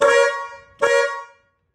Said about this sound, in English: So we might hear a slight honk once again.